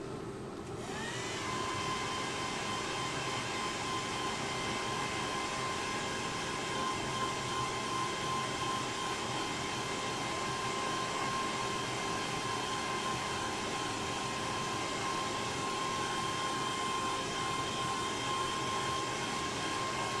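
A hairdryer runs steadily at close range, drying spirit-based stain on a colouring project with a constant loud whoosh and a high whine, starting abruptly and continuing without pause.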